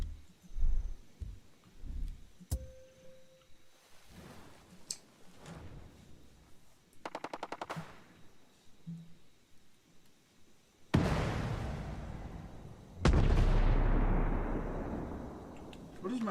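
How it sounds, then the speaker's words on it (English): Gunfire in a stealth video game on elite difficulty: after scattered faint ticks and clicks, two long, loud broadband bursts of shooting erupt near the end, each sustained for a couple of seconds. "Why are they shooting at me?"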